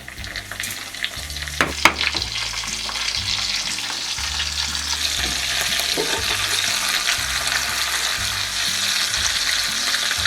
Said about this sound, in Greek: Θα ξαναβάλουμε το κρέας στο τηγάνι.